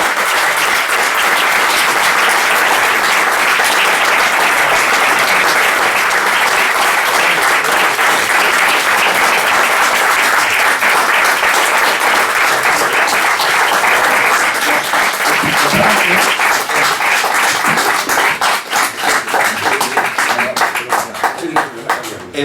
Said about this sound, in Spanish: los aplausos están prohibidos